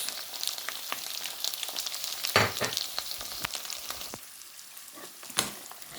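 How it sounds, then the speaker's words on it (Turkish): Tomato paste fries in a pan with curry powder, chili flakes, isot pepper, black pepper and salt, giving a crackling sizzle with sharp pops and stirring scrapes, close and moderately loud, no talk. "Şimdi salçamızı kavurduk."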